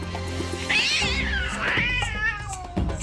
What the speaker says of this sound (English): one of the shelter cats, Licorice, decides to show her dominance to the new cat